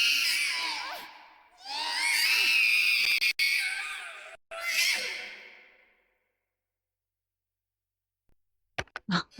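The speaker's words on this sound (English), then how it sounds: "we have an encounter with the mandragora. The crazy screaming one." The mandragora plant creature in the video game Haunting Ground lets out loud shrieking screams in several long bursts, then falls silent before a few brief knocks.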